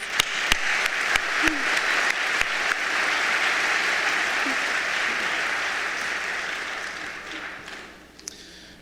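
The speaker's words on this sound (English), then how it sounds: "I just want to give another round of applause for our awesome seniors" Loud, sustained applause from a high school senior assembly crowd, with sharp individual claps standing out at first before it gradually fades away.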